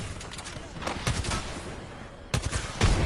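Gunfire crackles in an online video game, with bursts of shots over a dense mix of game noise and brief voices.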